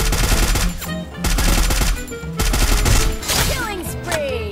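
Loud automatic weapon fire in a video game battle, sustained rattling bursts broken by brief pauses, with game effects layered underneath and a voice speaking briefly.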